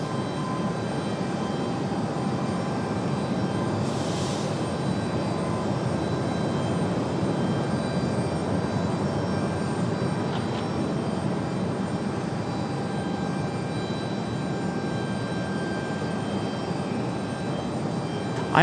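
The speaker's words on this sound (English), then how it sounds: "Aer Lingus off to Dublin." An Aer Lingus airliner takes off from Raleigh-Durham bound for Dublin, its jet engines a steady, moderately distant roar that holds throughout.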